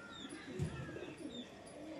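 Low, continuous cooing from a group of loft pigeons fills the space, with a brief louder throaty burst near the middle and light chirps flickering above.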